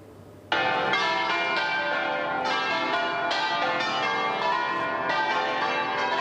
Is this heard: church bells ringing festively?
yes